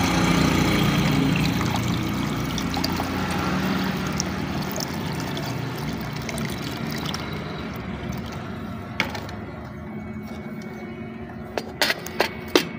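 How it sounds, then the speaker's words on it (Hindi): Water poured onto a hot mercury and saltpetre mixture in a pan just taken off the stove, giving a steady, loud rushing hiss that slowly fades, followed by a few sharp crackles near the end. "अब इसमें पानी डालेंगे।"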